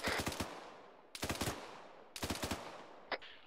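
Automatic rifle fire in ArmA 3 comes in three short, rhythmic bursts of several rounds each with pauses between, followed by a lone shot, crisp and moderately distant.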